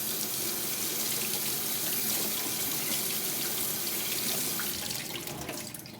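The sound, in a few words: rinsing food under a running kitchen tap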